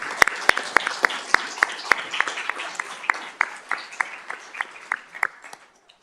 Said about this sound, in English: when you stand there and clap, it makes so much noise